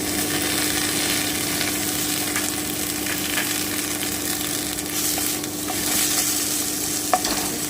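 Bottle gourd peel paste with chopped coriander sizzles in a pan while being stirred, a steady close frying hiss with soft scraping and a few spatula clicks, no one talking.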